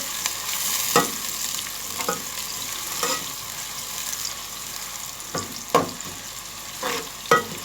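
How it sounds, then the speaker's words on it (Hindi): Onion frying in a pan until golden for a Delhi-style shalgam palak gosht, a steady close sizzle broken by several sharp stirring scrapes, with no talking. "अब हम इसको फ्राई करेंगे। इसको हम सुनहरा फ्राई करेंगे।"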